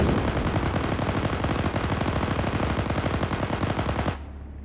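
Sustained machine gun fire in a video game, a rapid, loud, evenly spaced burst of shots lasting about four seconds before cutting off abruptly.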